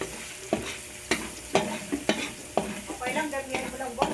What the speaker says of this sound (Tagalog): Ngayon, magigisa ko ng bawang para igigisa ko ulit siya sa bawang.